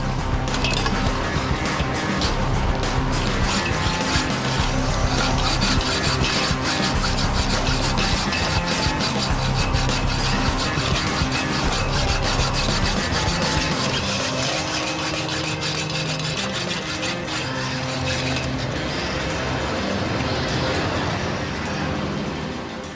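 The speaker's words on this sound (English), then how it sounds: "Method of attack, hacksaw." A hacksaw cuts through a bike lock at Barbican Tube Station during rush hour. The rasping strokes run continuously, loud and close, over a dense wash of crowd and traffic noise.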